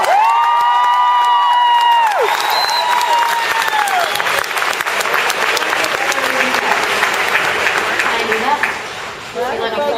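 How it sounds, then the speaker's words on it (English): Loud audience applause and cheering for actress Alycia Debnam-Carey at a fan event, a sustained roar of clapping with whoops and shouts, voices calling over it throughout, dipping slightly near the end. "give her a round of applause"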